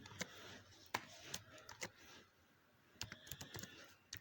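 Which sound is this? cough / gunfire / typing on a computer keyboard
typing on a computer keyboard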